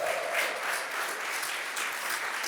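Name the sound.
congregation applause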